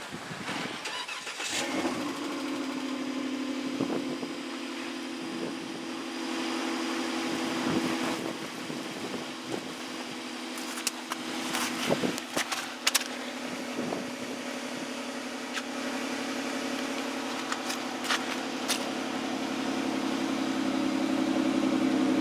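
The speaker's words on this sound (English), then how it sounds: "Do a separate cold start of that car too." A car engine cranks and catches in cold, snowy winter weather, then settles into a steady, close idle hum with occasional clicks and knocks over it.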